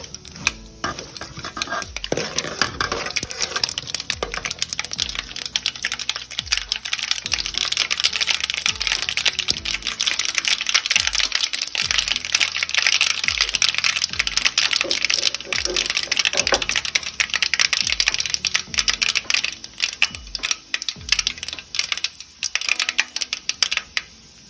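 Mustard seeds crackle and pop densely in hot oil for lemon rice, a busy, continuous spluttering with rapid sharp ticks and some stirring, loud and close throughout.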